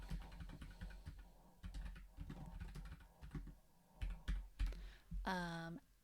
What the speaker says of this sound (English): I just start typing